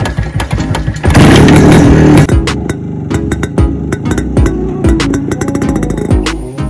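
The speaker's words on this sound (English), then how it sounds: "Now I'll start the bike and I'll show you the exhaust note of this bike" A restored 1995 Yezdi Roadking motorcycle fires up loudly after a burst of cranking, then settles into a close, throbbing exhaust note with uneven pops and occasional blips of the throttle.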